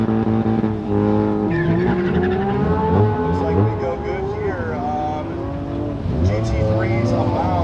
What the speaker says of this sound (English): The new GT3 driven by Charles Kim out on course